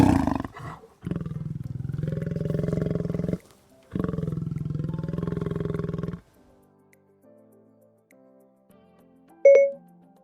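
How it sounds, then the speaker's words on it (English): Lion roaring close and loud in long, throaty bursts, one short grunt and then two sustained roars, trailing into quiet low huffs before a brief electronic chime. "A lion sounds like this."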